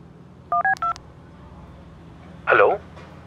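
Several short DTMF keypad tones in a quick run as a telephone number is dialed, followed by a brief burst of another sound, with a quiet room hum underneath.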